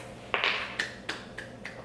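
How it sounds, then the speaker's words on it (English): Hands clap in a teaching drill, about six quick, faint claps in an uneven rhythm, close by and with no talk. "Clap your hands."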